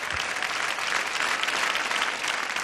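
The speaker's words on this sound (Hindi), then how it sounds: "जोरदार तालियां रोहित रॉय के लिए" Studio audience of a televised celebrity dance competition gives Rohit Roy a loud round of applause, a continuous wash of clapping from many hands that stays even throughout.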